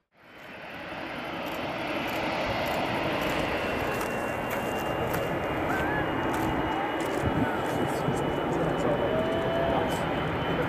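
An Emirates airliner going around over the runway: a loud, steady jet engine roar that swells in and holds for several seconds, distant but powerful, with a few faint voices underneath.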